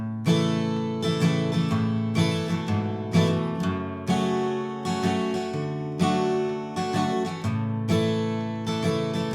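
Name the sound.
guitar strumming full verse of a song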